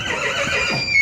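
Horse at a livestock horse market in Kemin, a short neigh against outdoor market background noise, no talk.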